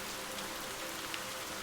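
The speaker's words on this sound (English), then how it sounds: "I guess it is also the rain" Steady hiss of rain falling in the video game Viewfinder, an even wash of drops at moderate, faint level with no talk over it.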